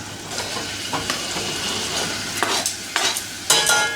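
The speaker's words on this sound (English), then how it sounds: "I'm just going to put all that in there and saute it." Chopped red onion, garlic and ginger sauté in a hot pan, a steady close sizzle broken by several louder stirring scrapes and crackles, with no voices.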